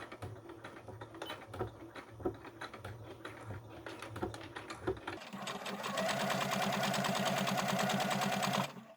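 Sewing machine stitching a fabric headband, starting with a backstitch: short, halting bursts of needle clatter at first, then a steady, fast, even whirring run of stitches close up that stops abruptly.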